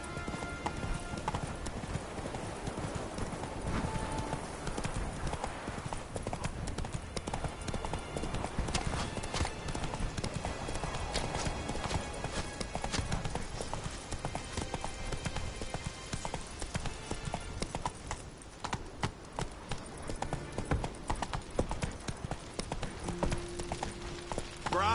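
Roach, a horse in the game The Witcher 3, clip-clops at a steady pace throughout, hooves drumming continuously and fairly loud over a dense game soundscape, with a voice briefly audible.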